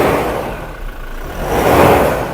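A Toyota Innova Crysta Z automatic is revved gently from idle, its engine note swelling close by in a short, smooth rise and then easing back slightly. No one speaks.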